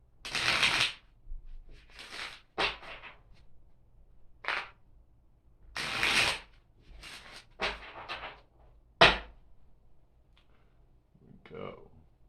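Tarot cards being shuffled in several separate bursts of crisp riffling and flicking, close and fairly quiet, with short pauses between them.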